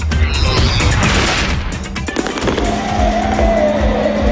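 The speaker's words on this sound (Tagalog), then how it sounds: "Simula pa lang, nagpatikim na ng bonggang fireworks display ang Countdown to 2014, the GMA New Year Special." Fireworks bursting at a televised New Year countdown celebration marking 2014, a loud continuous barrage of crackling and booming explosions with a steady roaring crowd-like wash underneath.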